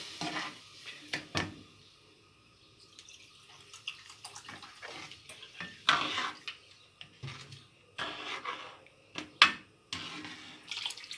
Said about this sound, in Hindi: इसमें हम पहले 1 कप पानी डालेंगे, इसको सही मिक्स करेंगे।